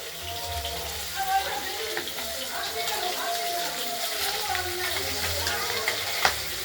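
Pieces of tilapia fish fry in hot oil in a pan, giving a steady close sizzle with scattered crackles and pops that continue throughout.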